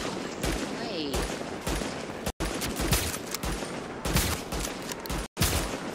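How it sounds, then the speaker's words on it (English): Sustained gunfire from a shooter video game: dense fusillades of rapid shots that run almost without break, with two brief silent dropouts and voices talking over the shooting. "There's that one person over there shooting me."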